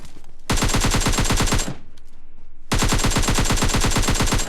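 Rapid automatic gunfire in the video game PUBG Lite rattles out in two long, dense bursts separated by a short pause, loud and continuous, with no talking.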